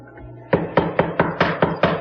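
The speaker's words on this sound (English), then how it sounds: "we like to make the mortises with our dedicated mortiser" Seven sharp, evenly spaced thuds of a hollow-chisel mortiser cutting mortises into wood, each hit loud and close after a brief quiet start.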